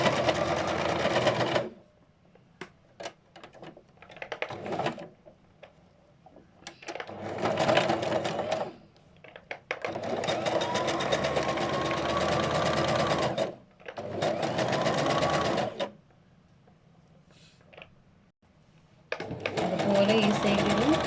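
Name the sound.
sewing machine stitching fabric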